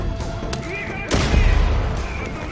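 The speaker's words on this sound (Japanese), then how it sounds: "爆弾でドーン。" A bomb goes off in the video game Far Cry 5, a sudden heavy boom that rolls on for about a second over continuous in-game noise while a player talks.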